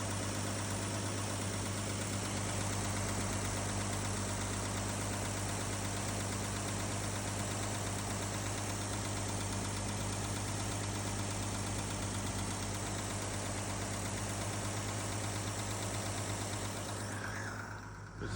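A Chevy 216 engine idles after a cold start, giving a faint, steady, even hum with no change in pace across the whole stretch.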